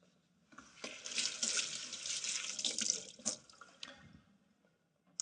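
Tap water runs steadily over a piece of preserved lemon held beneath it, a close, bright splashing stream that keeps going for several seconds before cutting off, leaving a few drips.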